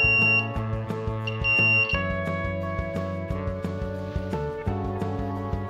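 A homemade BC547-based component tester emits steady electronic tones during a continuity test, with sustained pitched beeps that shift in pitch several times, with no speech.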